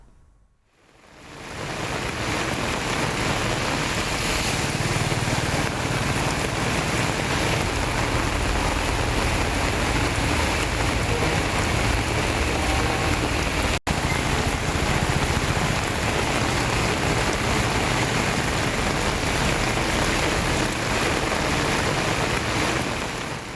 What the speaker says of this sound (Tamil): சேலம் மாவட்டம் ஆத்தூரில் அதிகாலையில் கொட்டி தீர்த்த கனமழையால் சாலையில் தண்ணீர் பெருக்கெடுத்து ஓடியது